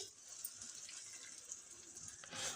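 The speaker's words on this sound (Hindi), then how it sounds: "मैं इसे अच्छी तरह से इस तरह से धो करके मैं थोड़ी सी पानी डाल देती हूँ" Water is poured into a cream bowl to rinse it, a faint close trickle and splash over a couple of seconds without speech.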